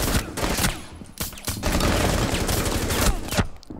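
Rapid gunfire erupts in Rainbow Six Siege on the reworked Favela map, loud and close, with overlapping bursts of automatic shots firing almost without pause for several seconds.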